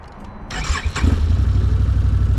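A Can-Am Outlander Max XT ATV engine cranks briefly, catches, and settles into a steady, loud close-up idle with no talking.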